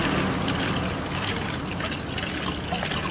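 A hand pump at a well sends water splashing and trickling out in a close, continuous gurgling flow, with a faint uneven rhythm.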